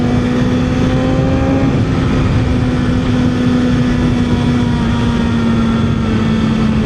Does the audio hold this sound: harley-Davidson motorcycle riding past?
yes